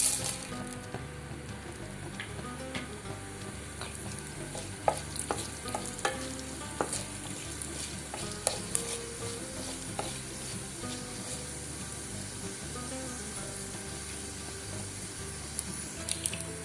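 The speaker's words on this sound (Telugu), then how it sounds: "మనకు తాలింపు గింజలు చిటపట్లాడిన తర్వాత ఉల్లిపాయ ముక్కలు వేసుకోవాలండి." Tempering seeds and a dried red chilli splutter and sizzle in hot oil in a pan, a steady frying hiss with scattered sharp pops and crackles throughout, close and moderately loud with no talking.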